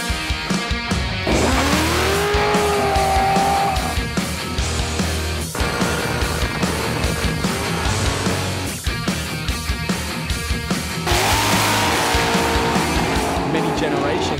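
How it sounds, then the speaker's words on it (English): Loud V8 muscle cars racing, with engine roar, revving and tyre squeal layered with music, and speech over it. "The aggressive lines combined with that unmistakable V8 rumble that gets the heart pumping."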